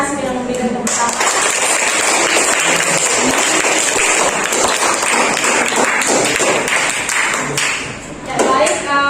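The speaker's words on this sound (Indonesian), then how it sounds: "anak-anak bisa mengapresiasi dan memberikan tepuk tangan" Students in a classroom applaud a classmate, giving a burst of steady, dense clapping that lasts several seconds at close range and then fades.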